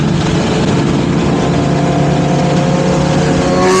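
A loud, close Honda CBR1000RR sport motorcycle engine drones steadily, its pitch climbing gradually as it revs toward the end.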